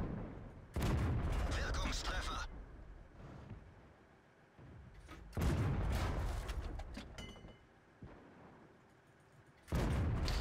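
Tank guns firing in World of Tanks, where Jagdtiger, StuG III and Tiger II tanks fight: three heavy, separate blasts several seconds apart, each followed by a rolling rumble that fades, with quieter battle noise in between.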